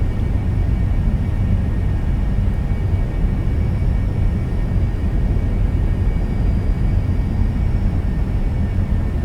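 Steady, loud engine drone of a light aircraft in the X-Plane 11 flight simulator game, a continuous low rumble holding unchanged throughout with no voices.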